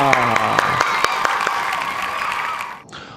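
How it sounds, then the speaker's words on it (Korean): Brief burst of clapping and cheering from a class at the start of its first lesson, with a whooping voice over the rhythmic claps before it cuts off abruptly. "첫 수업을 시작합니다 하면은 박수를 크게 쳐보시는 겁니다"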